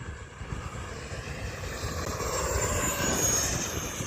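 An E-flite F-18 Blue Angels RC jet makes a full-speed pass, its electric ducted-fan motor whining in a steady roar that grows slightly louder. Wind and an open-air outdoor setting sit behind it, with no talk.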